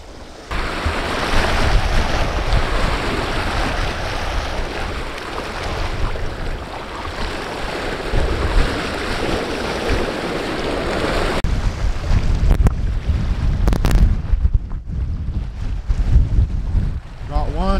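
Strong gusting wind at San Luis Reservoir during late winter fishing roars across the microphone continuously, loud and broadband, with water lapping beneath it.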